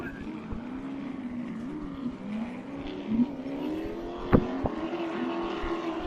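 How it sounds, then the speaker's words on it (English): Distant racing powerboat engines drone and rise and fall as the throttle is blipped during a race on Lake Glenmaggie, a steady mechanical whine with a couple of sharp clicks. "And you can hear them both stabbing at the throttles of the boats."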